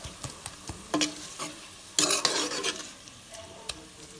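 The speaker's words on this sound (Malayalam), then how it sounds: "ഇതൊന്ന് മൂപ്പിച്ചെടുക്കാം." Chutney paste stir-fried in a pan for pork roast, with a spoon scraping and stirring through a soft sizzle in irregular bursts, close and quiet, the strongest stroke near the middle.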